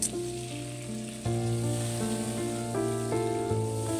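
Chopped tomatoes go into a pan of frying garlic and ginger, giving a bright, continuous sizzle that runs under steady background music.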